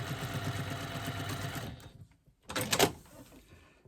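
A sewing machine quilting a fabric panel runs in a steady close mechanical whir for nearly two seconds, falls silent, then starts again in a shorter, louder burst.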